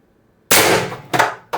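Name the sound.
Pistelle X-68 HPA airsoft carbine shot with suppressor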